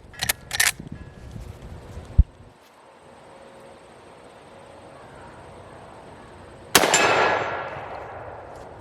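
Rifle rounds strike a steel gong target at an outdoor gun range: a quick pair of sharp cracks, a lone report, a quiet stretch, then a final loud shot with a trailing ring.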